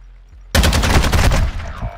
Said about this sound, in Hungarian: Mi volt ez a lövés?